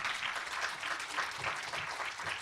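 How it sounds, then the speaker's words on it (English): Audience clapping for a guest being welcomed on stage, a steady broadband patter of many hands sustained evenly throughout with no talk over it. "It's going to take a lot of clapping"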